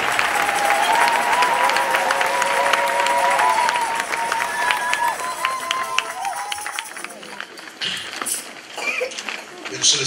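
A church congregation at a mothers' convention applauds and cheers loudly in sustained clapping with shouts and whistles, then the applause thins into scattered claps and voices.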